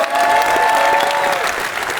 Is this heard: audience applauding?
yes